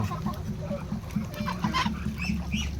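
Several chickens cluck and murmur nearby in short repeated bursts, with a person talking intermittently over them.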